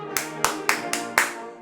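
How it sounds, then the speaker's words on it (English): Clapping for a graduating class of 2020 at a virtual university commencement: five sharp, separate hand claps at an even, slow pace, close and loud, from one person rather than a crowd. "A final round of applause for our proud class of"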